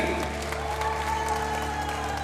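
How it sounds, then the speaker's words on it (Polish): Steady applause from a volleyball crowd in an arena, a continuous dense wash of clapping with no break, fairly loud over a low sustained hum. "Jeszcze raz wielkie brawa."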